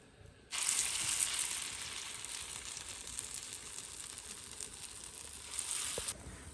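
Lentil fritters (bora) fry in hot oil with a steady, bright sizzle that starts abruptly and holds evenly for several seconds before cutting off near the end, with no voices.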